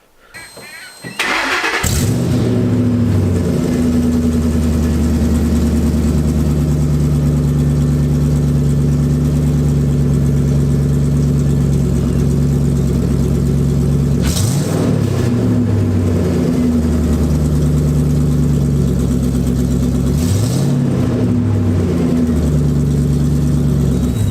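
A car engine starts, then idles loud and steady through a newly installed exhaust, with a low, even drone and a couple of brief blips partway through.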